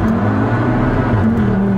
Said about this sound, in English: This car does not sound like a typical 5-pot.